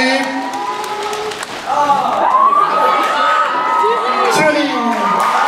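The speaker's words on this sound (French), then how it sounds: "Je voudrais un tonnerre d'applaudissements pour l'équipe." An audience at a school maths conference closing ceremony claps and cheers loudly, with high-pitched shouts and whoops from young voices rising over dense applause that swells after a quieter start.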